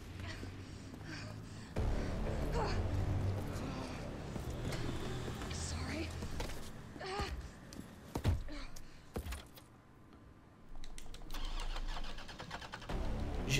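A car engine cranks and starts in the video game Resident Evil 3, a sustained low engine rumble running under game sound and someone talking over it.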